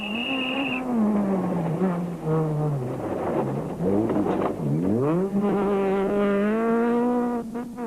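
A rally car at speed on a stage of the 2006 Sasol Rally, its engine loud and close, rising and falling through gear changes with repeated high revs and a brief dip mid-run, heard without voices.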